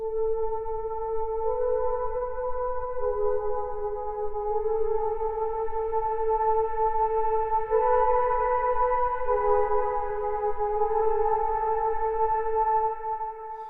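Soft sustained synthesizer pad built from Prophet 12 samples, playing slow, mellow chords with gently shifting tones, no voices.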